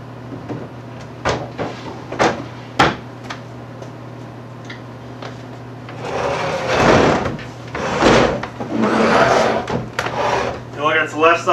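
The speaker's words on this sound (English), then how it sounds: "the drawer kind of slides on here" A well-made wooden drawer in an old piece of furniture slides along its rail, with a few sharp clicks and knocks followed by a longer rough scraping rush, close by.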